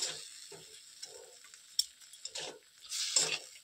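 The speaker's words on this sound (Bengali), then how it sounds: "এবার এটাকে নেড়ে নিব কিছুক্ষণ।" A spoon stirs hyacinth bean chutney in a pan, giving soft scraping strokes in short bursts with a faint sizzle beneath, close and fairly quiet.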